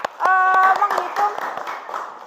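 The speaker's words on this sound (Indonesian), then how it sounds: "tepuk tangan untuk kalian semua yang luar biasa" A classroom group claps for classmates, a burst of hand claps with distinct sharp strikes, loud and close, thinning out toward the end while a voice talks and sustained tones sound over the start.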